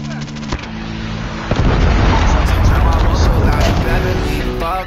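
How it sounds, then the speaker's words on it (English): A predator missile strike in Call of Duty Mobile lands as a loud, sustained rumbling blast that swells after a moment and rolls on for several seconds, over background game music. "Predator missile inbound."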